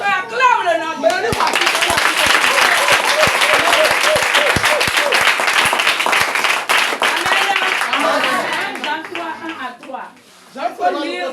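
A church congregation bursts into loud sustained applause and clapping with cheers, while a voice speaks over it at the start and end.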